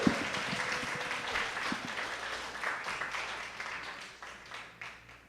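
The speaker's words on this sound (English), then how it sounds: "Clap it up for Al Carfora!" Sustained crowd applause at a stand-up comedy show welcoming comedian Al Carfora, loud and even at first, then slowly fading toward the end.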